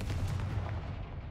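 A Confringo fire spell cast in Hogwarts Legacy, a single dense, booming blast like artillery fire with a rumbling low end that fades out over about a second, heard alone.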